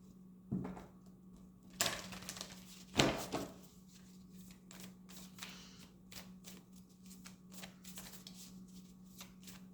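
Tarot cards are shuffled close up, with a few sharp riffles and slaps early on followed by quieter repeated card shuffling and handling under a low steady hum.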